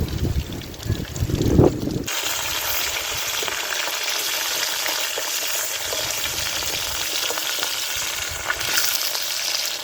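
Fish sizzles steadily in hot mustard oil for a Bengali fish curry, a loud continuous crackling hiss that starts abruptly after a brief stir-like clatter and holds at an even level to the end.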